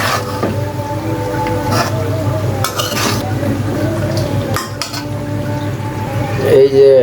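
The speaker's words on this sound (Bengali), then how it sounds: "এখন একটু ভালো করে লাড়াচাড়া করে নেব" Mango pickle with garlic being stirred in a pan, with irregular spoon scrapes and knocks over a soft, steady crackle of oil, close by, while a voice talks in the background.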